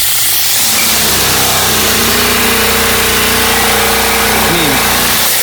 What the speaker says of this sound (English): here's a sink that sounds funny